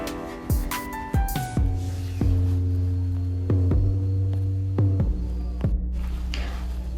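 A sewing machine runs around the edge of an African boubou garment, its motor humming up and down in speed with several quick stops and starts, close and steady with no voices.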